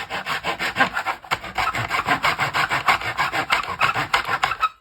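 Rapid back-and-forth sawing trims a wooden mast on a 1:84 scale model ship, close and steady, with a brief pause before the strokes resume in an even rhythm.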